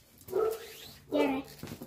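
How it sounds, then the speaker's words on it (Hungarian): A dachshund in a garden whimpers and gives two short, whiny barks close by, with a brief pause between them. "Kutya! Nyugi!"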